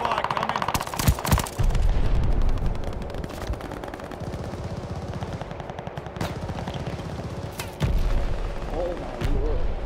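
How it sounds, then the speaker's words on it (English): Mortar fire and rapid gunfire in Call of Duty: Vanguard multiplayer, dense bursts of automatic shots and heavy booms crowding the soundscape, with in-game voice callouts heard over the din. "Friendly mortar fire coming."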